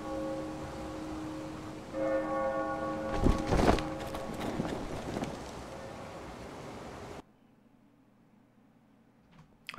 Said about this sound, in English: The Night's Watch has a church bell.